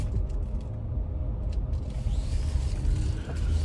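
A car driving along, heard from inside as a loud, constant low rumble of road and engine noise with faint creaks and rattles from the cabin mechanisms.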